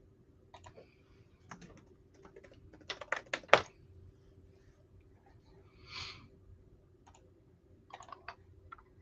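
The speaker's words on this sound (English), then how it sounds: "this one does have the typewriter audio, so if it annoys you, feel free to mute" A typewriter sound effect ticks out irregular bursts of crisp key clicks and clacks, some quick clusters and a louder strike midway, over quiet room tone with no talk.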